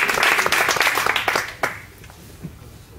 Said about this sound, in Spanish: pido un aplauso para John.